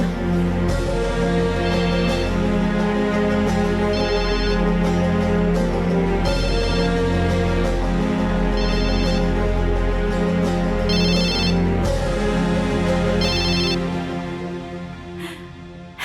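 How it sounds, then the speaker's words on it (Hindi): A phone ringtone plays in repeated melodic bursts at a steady rhythm, loud and close, before fading out near the end. "लगता है किसी की कॉल आ रही है,"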